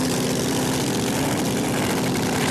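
Supercharged Hemi and supercharged Big Block drag racing engines roaring together in a steady, dense drone at a dragstrip qualifying event, continuous and loud with no pauses.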